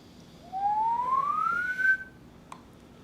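A single bright filtered bass synth tone slides smoothly upward in pitch for about a second and a half, then cuts off, followed by a faint click.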